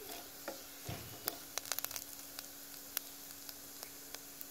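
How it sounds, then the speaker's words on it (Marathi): Food sautéing in a pan until light golden brown for a horsegram soup, a quiet sizzle with occasional crackles and stirring clicks over a low steady hum. "लाईट गोल्डन ब्राऊन होईपर्यंत त्याला थोडंसं परतून घेऊया।"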